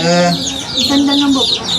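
White chicken chicks give high, quick cheeps at close range, mixed with lower clucking tones, in a short burst.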